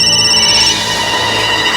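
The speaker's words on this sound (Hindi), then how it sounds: "मम्मी तुम्हारा फोन वागे छे" A telephone rings loudly and steadily, its bright electronic ringtone repeating alone with no talk over it.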